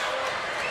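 A basketball crowd at a high school boys championship game roaring after a missed free throw, a brief dense wall of loud cheering and shouting in an indoor gym.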